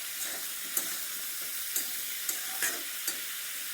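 Spiny gourd fries with salt and turmeric in a pan, giving a soft, even sizzle punctuated by about five light spoon clicks and scrapes as it is turned, with no talking.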